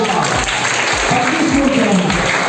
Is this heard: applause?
yes